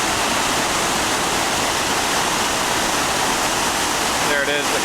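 Iguazu Falls in Argentina roars as a dense, continuous wash of falling water, loud and steady throughout, with a faint brief voice-like sound near the end.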